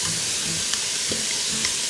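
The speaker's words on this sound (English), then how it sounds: "So I'm going to toss in those onions. You can hear them sizzle." Onions sizzle steadily in a hot pan, a dense crackling hiss with a few faint stirring clicks, no voices.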